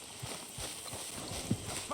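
Horse hooves clip-clop at a walking pace in the Red Dead Redemption 2 video game, soft regular footfalls under speech.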